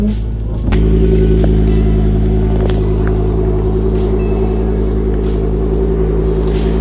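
A Ford Focus ST225 with a 3-inch straight exhaust suddenly roars up from a low rumble and holds a loud, droning rev, close by and steady throughout.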